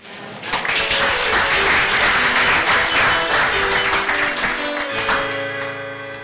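Loud, sustained applause from an assembly welcoming new students at the ISTV institute in Mwene Ditu, a dense wash of clapping that swells quickly and holds steady before tapering near the end.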